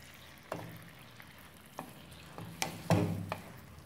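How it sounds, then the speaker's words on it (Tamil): Eggplant stirred with a ladle in a pan, giving a few faint, spaced scrapes and clinks against a quiet, low sizzle, with no voices. "அந்த கரண்டி கொண்ட இதை இப்போ நம்ம கிண்டி விட்டுடலாம்"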